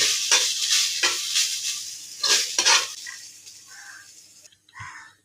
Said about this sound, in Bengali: প্রথমে আমি এই আলুর গ্রেট করাটাকে একটু ভেজে নেব।